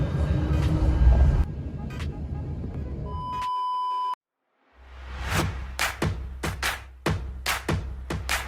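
A tram ride in Helsinki, with steady rolling rumble inside the car and a repeated electronic beep tone. After a brief gap come rhythmic clacks and thumps of the wheels over track joints.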